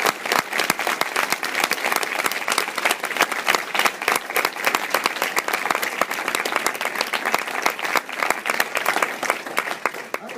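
Dense, steady applause from a large audience honoring caregivers fills the whole stretch, a continuous wash of many hands clapping without a break.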